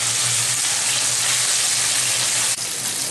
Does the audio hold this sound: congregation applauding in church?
no